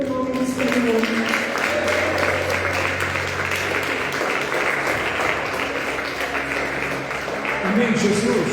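A church congregation at a Tuesday family worship service claps steadily and densely throughout, loud and close, with voices and some musical tones running underneath.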